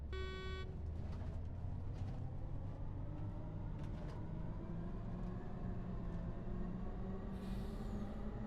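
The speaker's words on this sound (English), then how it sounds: "electric truck has an interesting sound for sure" An electric truck in the Farming Simulator 25 video game runs with a steady low electric hum and rumble, a brief tonal whine at the start and a short hiss near the end, continuous and moderately loud.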